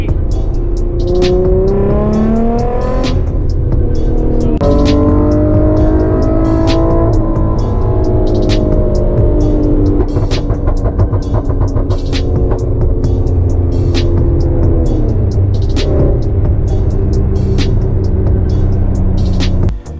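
A Nissan 350Z drives with a loud, continuous engine note that rises and falls through repeated revs and gear changes, heard close and alone for about twenty seconds.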